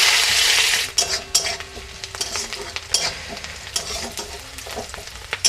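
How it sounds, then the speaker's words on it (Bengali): Chopped onions fry in a pan with whole cumin, cardamom and cinnamon, a steady close sizzle broken by frequent stirring scrapes and light clinks of a spatula against metal. "পেঁয়াজটা ভাজা ভাজা হয়ে গেছে"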